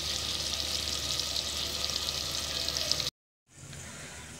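Chicken frying in a pot for a village-style degi aloo chicken, a loud steady sizzle and crackle close by that cuts out abruptly for a moment and then resumes a little quieter.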